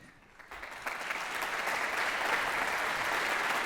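Audience applause for the quarterfinalists of a 2017 music competition, starting thin and swelling within a second into steady, dense clapping from a large crowd that holds for several seconds.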